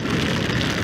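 Steady, dense hiss of rain pouring down in Benguet, continuous and fairly loud, with a low rumbling undertone like traffic on wet pavement.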